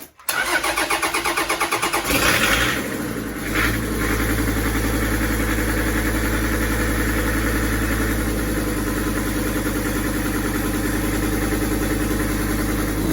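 A car engine cranks with rhythmic starter chugs, catches and settles into a loud, steady idle after a shot of brake cleaner, running smoothly with a constant close drone and no talking.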